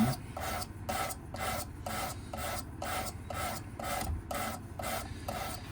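Repeated rasping strokes of a blade on a Work Sharp Precision Adjust knife sharpener, about a dozen even back-and-forth passes in a steady rhythm, close and clear with no talking.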